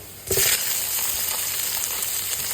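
Boiled chicken dropped into hot frying oil with onion and garlic bursts into a loud sizzle that jumps up sharply and then holds as a steady, close frying hiss.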